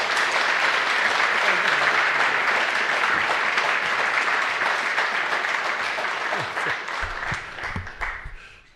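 An audience at the 2025 Bernard M. Gordon Prize presentation applauds to welcome Dr. Anderson, a steady, dense round of clapping that holds for several seconds, then thins and fades out.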